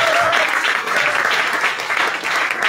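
A church congregation applauds and cheers for Jesus Christ during a Thursday teaching service, a dense, loud, continuous wash of clapping with a few voices mixed in.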